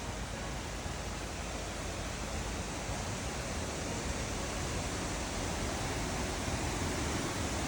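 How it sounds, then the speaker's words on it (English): A hidden waterfall in Oregon roars as a dense, steady rush of falling water, loud and unbroken for several seconds with no voices. "This is literally a hidden waterfall in Oregon."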